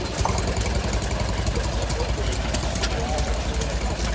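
A vintage hot bulb stationary engine runs at a tractor show, a steady close chugging beat with rapid knocking, while voices talk over it.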